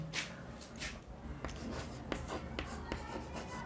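Chalk or marker strokes on a classroom board during a chemistry lesson on solubility, heard as a series of soft, scratchy taps and short scrapes at a steady pace, fairly quiet with a light room background.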